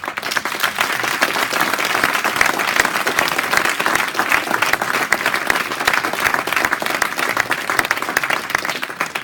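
A hackathon audience applauds a team's project presentation with loud, dense, sustained clapping from many people, an even roar of hands that stays strong for around nine seconds.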